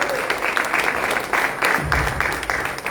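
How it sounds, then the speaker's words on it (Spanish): An audience applauds at the opening of an exhibition room, loud continuous clapping with a rippling texture that swells slightly partway through, no voices above it. "Un fuerte aplauso para los compañeros."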